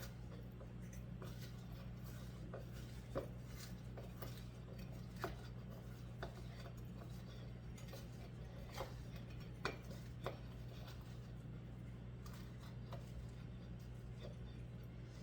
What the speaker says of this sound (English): You're going to work your butter and seasonings together.